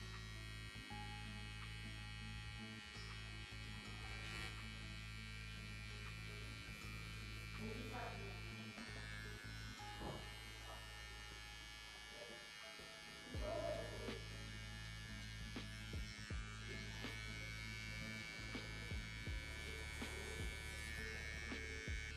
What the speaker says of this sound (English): I'm gonna get my clipper, kind of just blend this out right there